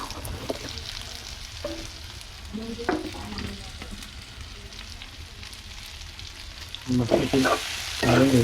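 Raw mango pieces and dried fish fry in oil in a pan over a lowered flame, a close steady sizzle broken by scraping stirs that grow louder and busier near the end.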